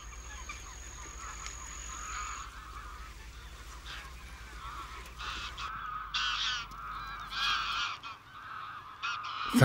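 Geese honk repeatedly in a distant, overlapping chorus over arable fields in Villafáfila, Spain, growing busier and louder toward the end over a low background hum.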